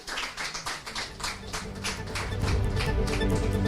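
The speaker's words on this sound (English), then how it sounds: "another round of applause for Holy Child" A crowd at a Children's Day award ceremony in Lagos claps for the children, a brisk patter of hands that swells and grows denser toward the end.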